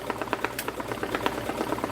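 Fast, steady mechanical chatter of an embroidery machine stitching a cap, a continuous close rattling rhythm with a low motor hum underneath, no talking.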